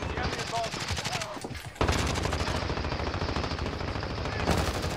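Rapid automatic gunfire in a Call of Duty match: a loud, continuous rattle of shots that briefly stops, then resumes with a sharp onset and keeps firing steadily to the end.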